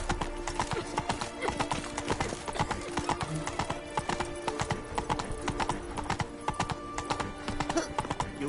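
Horse hooves clip-clopping at a steady trotting rhythm on a road in The Witcher 3, close and continuous, with a brief whinny mixed in and game ambience underneath.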